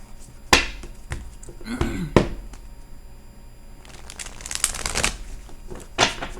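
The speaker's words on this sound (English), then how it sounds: "I'm going to go ahead and pre-shuffle a little bit more" A tarot card deck being shuffled by hand, with sharp riffling snaps and bursts of papery flutter between quieter pauses, close and fairly loud.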